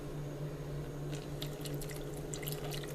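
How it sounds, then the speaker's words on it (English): Water being poured into protein powder in a shaker, a quiet continuous trickle with faint splashes and drips over a steady low background hum, no talking. "Okay, now I basically just add in some water"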